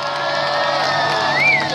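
An outdoor charity concert crowd in Piaseczno cheers and whoops steadily for the whole stretch, loud and dense, with a single rising whistle-like shout near the end and no clear speech.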